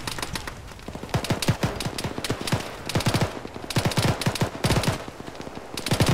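Rapid bursts of gunfire in the Arma military shooter ring out close and loud, with repeated volleys and single cracks following one another across the whole stretch.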